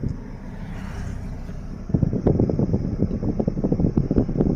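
A car pulls away in first gear: a low, steady engine rumble that becomes rougher and busier as the vehicle starts rolling, heard close from inside with no talk.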